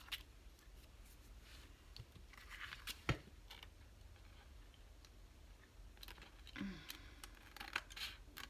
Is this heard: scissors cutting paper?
yes